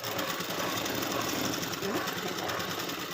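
Sewing machine running steadily through a cross stitch, a continuous close mechanical whirring and rapid needle clatter that holds even for about three seconds, with no talk.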